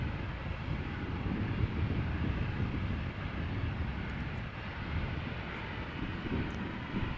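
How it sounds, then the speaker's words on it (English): A KLM Embraer 175 jet takes off at Amsterdam Schiphol, bound for Hamburg, heard as a steady, moderately distant engine rumble mixed with some wind buffeting on the microphone. "We have another KLM Embraer 175 waiting to go. No longer waiting to go, going."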